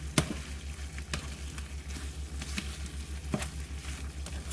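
Shrimp with tomato and oyster sauce being stirred in a pan, a faint low sizzle under a steady hum, with a few sharp clicks of the utensil against the pan.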